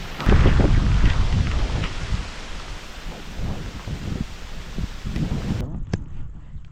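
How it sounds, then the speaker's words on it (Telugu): Heavy rain with wind roars in a broad, steady wash over farm fields, with low rumbling gusts swelling and fading throughout and a brief sharp crack near the end. "పెద్ద వర్షం"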